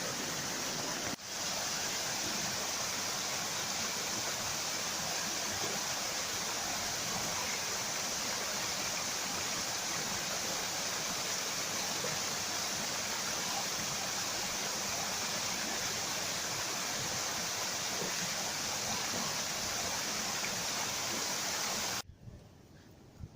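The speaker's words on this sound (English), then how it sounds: "We found a set of waterfalls and they're bloody gorgeous." Steady, dense rush of a waterfall pouring into pools out in the wild, loud and continuous without a break, then cutting off abruptly near the end.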